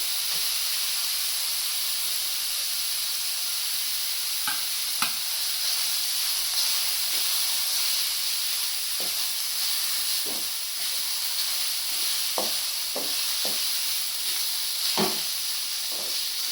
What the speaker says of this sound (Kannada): ಇದೊಂದು ನಿಮಿಷ ಫ್ರೈ ಆಗಲಿ ಫ್ರೆಂಡ್ಸ್